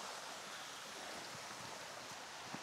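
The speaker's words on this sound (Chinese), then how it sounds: "在我的左手邊，這個溪流啊" A clear mountain stream in a remote Hunan village washes over a large worn boulder, giving a faint, even, continuous burble of flowing water with no voices.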